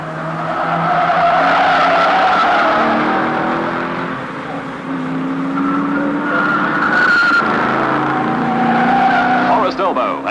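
Race cars, including Holdens and Falcons, skid with loud tire squeals in a pile-up at the start, long screeching slides and engine noise overlapping close up, while a commentator talks over the chaos.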